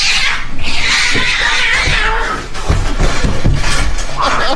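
A cat yowls and caterwauls loudly and close up in drawn-out, wavering cries, with short bursts of scuffling and clatter between them.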